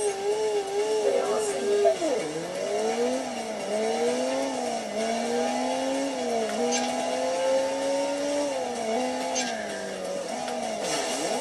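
A motorbike ridden in Headhunter on the Sega Dreamcast, its engine droning and rising and falling in pitch as it revs and shifts, steady and fairly close throughout.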